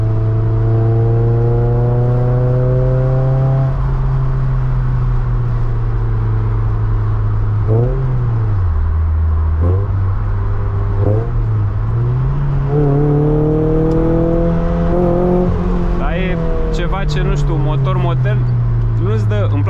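A 1993 Toyota MR2 engine revs up and down through several rising and falling pitch sweeps, with sharp throttle blips near the end, loud and close, while someone talks over it the whole time.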